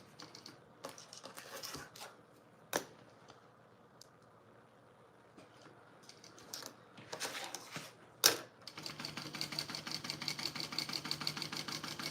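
A sewing machine runs a decorative stitch along the bottom of a garment, with short bursts and clicks early on and then a steady, rapid mechanical whirring that continues to the end.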